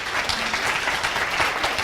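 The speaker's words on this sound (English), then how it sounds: "Let's give the guys a round of applause first of all," An audience applauds steadily in a hall at a training session, a dense, even clatter of many hands clapping close by, with no voices over it.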